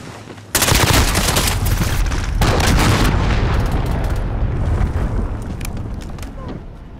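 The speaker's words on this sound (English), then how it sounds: "Allied cruise missile launched." A heavy cruise missile strike in Call of Duty: Modern Warfare multiplayer: a sudden loud boom followed by sustained roaring rumble and crackling debris, with gunfire and a voice talking over the blast.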